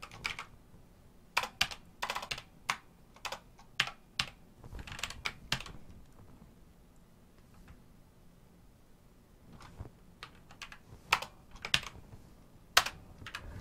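Code being typed on a computer keyboard in bursts of rapid, crisp key clicks separated by quiet pauses, close and moderately loud, with no speech during the typing.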